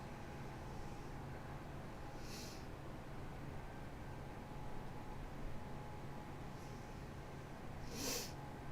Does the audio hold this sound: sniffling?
yes